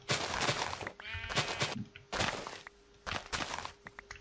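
Sheep in Minecraft bleat in short repeated calls amid mountainous terrain, with footstep-like thuds and other game sounds between them, fairly quiet overall.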